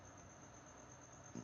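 A cricket chirps in a home garage studio, a steady high-pitched trill running continuously at low level beneath a faint background hum, with no voices.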